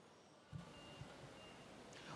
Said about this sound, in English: Well, the truck that I told you about earlier, they seem to be reversing.